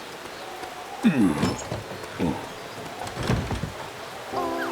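A rain and wind storm in an animated children's train series makes a steady hiss under the talking voices of several characters.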